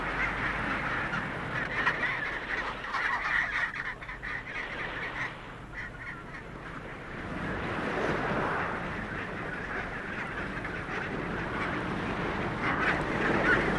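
A mixed colony of Adelie, chinstrap and macaroni penguins calls continuously, with dense overlapping squawks, brays and honks at moderate distance and no pause.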